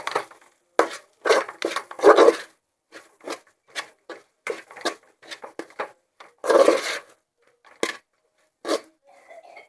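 Ground masala is stirred into beef curry in a pan, heard as irregular, close bursts of spatula scraping and tapping against the pan, separated by brief quiet gaps.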